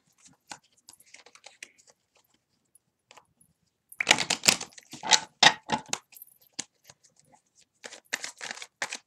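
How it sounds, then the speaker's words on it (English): Rapid papery flicks and riffles of tarot cards being shuffled, a burst of dense shuffling in the middle with lighter taps before and after, close and fairly quiet. "I'm going to have to shuffle these cards really good as well."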